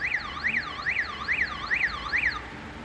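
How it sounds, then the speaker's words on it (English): An alarm at a Family Dollar store wails outdoors with a rapid, repeating up-and-down electronic sweep, about six cycles, steady and fairly loud with no one speaking. "that alarm has been going off"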